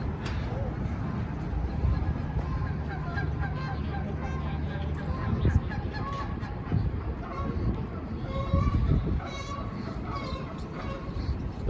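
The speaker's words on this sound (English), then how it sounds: "That's a duck. Or goose, or geese." Geese honk outdoors during a walk through Edmonton, Alberta, a scattered series of faint calls over steady city background noise, with people talking nearby.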